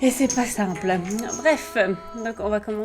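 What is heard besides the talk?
No everyday noise stands out behind the speech.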